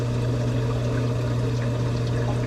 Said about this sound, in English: just kind of dripping for now right there